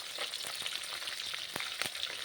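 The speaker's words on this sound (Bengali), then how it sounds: "অনেকদিন বাদে এই মাছটা রান্না হচ্ছে আবার" Bata fish curry simmering and frying in a pan, a close, continuous crackling sizzle with sharp bubbling pops scattered throughout.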